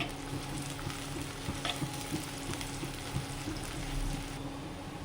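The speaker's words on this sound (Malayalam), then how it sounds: "വെളിച്ചെണ്ണ ഒഴിച്ചു ഒരു സവാള ചെറുതാക്കി എരിഞ്ഞത് ഒരു ചെറിയ കഷ്ണം ഇഞ്ചി പിന്നെ ഒരു അഞ്ച് കാന്താരി മുളക് അതൊക്കെ ഇട്ടിട്ട് ഒന്ന് നമുക്ക് മൂപ്പിച്ചെടുക്കാം" Chopped onion, a small piece of ginger and small bird's-eye chillies frying in coconut oil, a steady close sizzle with light scattered crackles throughout, no voices.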